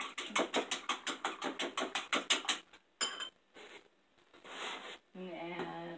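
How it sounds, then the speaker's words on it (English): Egg, milk and cinnamon are whisked in a bowl for microwave French toast, a fast steady run of close scraping strokes lasting a few seconds before it slows into scattered clinks and a softer swish. "And just whisk it all together."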